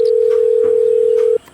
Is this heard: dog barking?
no